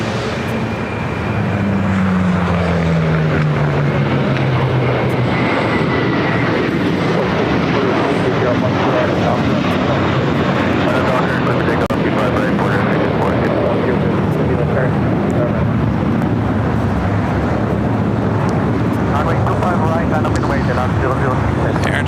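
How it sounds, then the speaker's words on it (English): A JetBlue Airbus A321 takes off from runway 25 right at Los Angeles International, a loud steady engine roar with a falling whine early on, sustained throughout under intermittent talk. "JetBlue A321 heading to JFK, now taking off 25 right"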